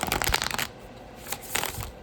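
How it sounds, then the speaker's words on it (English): A tarot card deck is shuffled by hand, a dense riffling burst followed by a quieter pause and a second, shorter flurry of card flicks, close and clear. "This deck shuffle's okay, I think."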